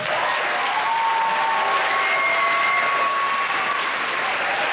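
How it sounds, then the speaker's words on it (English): Dense, full audience applause at the Rosemount Music Department junior spring concert, a school music event, steady and loud throughout with no break in the clapping. "So once again, by show of applause,"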